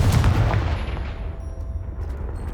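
A Confringo fire spell detonates in Hogwarts Legacy with a heavy booming blast right at the start, and its deep rumble trails off over a couple of seconds.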